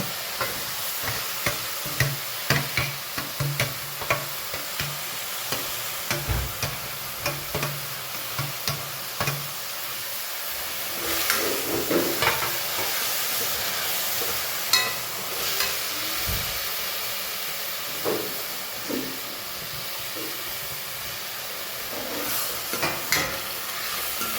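Onion and green garlic frying in an oiled pan, a steady bright sizzle with recurring stirring scrapes and clicks across the whole stretch.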